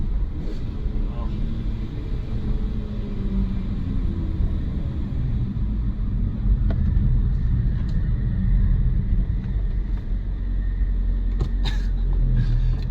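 A BMW M3 E46 with an SMG gearbox drones with a deep, steady engine rumble heard from inside the car under road and wind noise; the individual upshifts are faint and hard to pick out.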